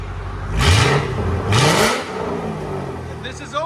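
Ford Mustang GT 4.6L V8 with aftermarket exhaust revving twice in quick succession, each blip climbing and falling back to a rumbling idle, close and fairly loud.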